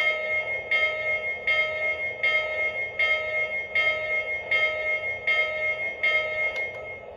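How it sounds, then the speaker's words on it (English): Bell of a Lionel LionChief Walt Disney World 50th Anniversary Express model train, ringing in an even, steady rhythm of about eight strikes with sustained metallic tones, close and clear with no talk. "here's the bell, which is activated by pressing the bell button on the LionChief remote"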